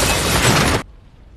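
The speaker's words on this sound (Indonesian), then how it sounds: "tiba-tiba mobilnya meledak" A car exploding in a film: a loud, dense, crackling blast that fills the sound and then cuts off abruptly into near silence.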